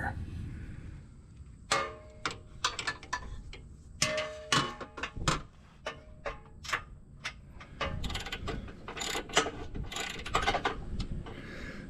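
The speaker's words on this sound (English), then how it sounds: "there's 2 18mm bolts I need to remove on each side" A ratchet wrench with an extension works loose the 18mm bolts on a Jeep Wrangler, giving close, sharp clicking bursts in uneven runs with brief pauses between turns.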